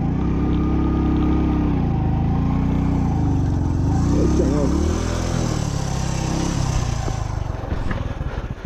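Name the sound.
Hero Passion Pro motorcycle engine revving off-road in Ladakh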